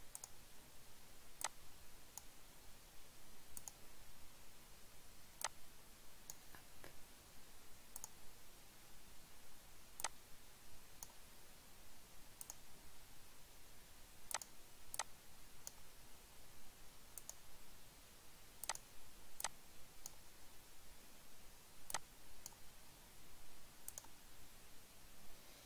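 A computer mouse clicks faintly at an irregular, unhurried pace, single sharp ticks spaced a second or two apart over a quiet hiss.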